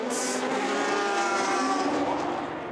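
LMP2 prototype race cars pass on track in a close battle for position, one loud engine howl sweeping by near then fading as it moves away, with no talk.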